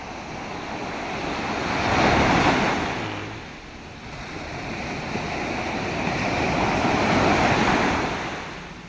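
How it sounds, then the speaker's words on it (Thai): Ocean waves break on a sandy beach, surging up in two broad, loud washes of surf with wind noise between them, no voices heard. "คลื่นแบบนี้น่าเล่นมากเลยนะ"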